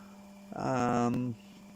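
A homemade test generator turning at low RPM with twelve cores moving through its coil gives a steady, faint electrical hum around 200 hertz. A louder, buzzy tonal swell rises briefly in the middle, then the hum settles back alone.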